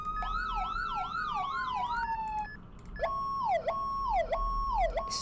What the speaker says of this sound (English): This is my favorite siren.